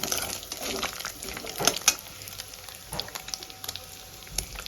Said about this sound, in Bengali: গোটা জিরে আর তেজপাতা ফোড়নে দিয়ে দেবো। ফোড়নটা একটু ভেজে নেব 5 মিনিটের মতো।